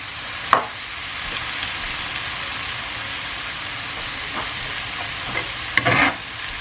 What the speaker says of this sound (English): And then mix everything together